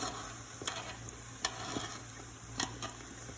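Devil bread dough frying in hot oil, stirred with chopsticks: a quiet steady sizzle with several sharp clicks and taps of the chopsticks against the pan, no voices.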